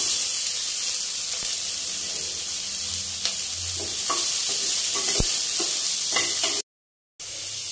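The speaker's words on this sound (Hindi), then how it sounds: "जब तक हमारा प्याज फ्राई हो रहा है" Chopped onion and cumin sizzle in hot oil in a pan for a Bihari-style white eggplant dish, a steady close frying hiss broken by scattered stirring scrapes and clicks, then a brief dropout.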